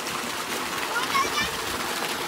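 Irrigation water runs onto a farm field where green grass is being planted, a steady rushing and splashing flow with people talking over it.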